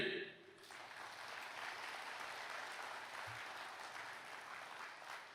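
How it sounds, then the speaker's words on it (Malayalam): Faint, steady clapping from an audience at a priest's talk, sustained for several seconds and heard from a distance. "ഒന്ന് കൈയടിച്ച്."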